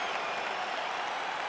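Steady, dense crowd roar and applause filling a UFC 4 video game arena at the opening of a fight, continuous and fairly loud with no clear individual voices standing out.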